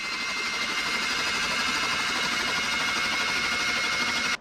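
An old truck engine, last tagged in 2005, runs steadily and loudly with a dense, buzzing rhythmic chatter that holds even throughout, with no voices over it.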